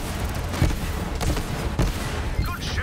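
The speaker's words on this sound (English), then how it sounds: "Let's make use of this rocket launcher." A rocket launcher in Borderlands 3 fires as a dense run of booming blasts and bursts, loud and close, packed tightly with no pauses between them.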